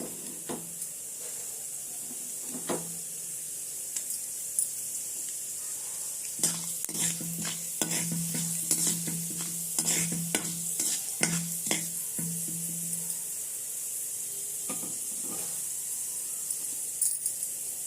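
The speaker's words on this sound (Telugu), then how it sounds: "పోపులు వేసుకోవాలి. పచ్చనిపప్పు, ఆవాలు, మినపప్పు." Chana dal, mustard seeds and urad dal tempering in hot oil in a pan for mustard rava pulihora, giving a steady sizzle with scattered sharp pops and crackles that cluster thickly midway, with no talking.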